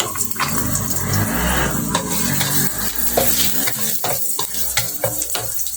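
Ginger sautéed and stirred in a hot pan, a steady loud sizzle with scraping stir strokes and occasional clinks throughout, close up and with no voices.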